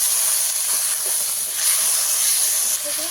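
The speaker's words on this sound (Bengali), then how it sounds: "সামান্য একটু জল দিয়ে কষিয়ে নেবো ভালো করে" Spices with turmeric and chili powder sautéing in a pan with a splash of water for a Bengali winter flat-bean and fresh pond-fish curry, giving a steady, close, loud hiss like steam that holds throughout without pause.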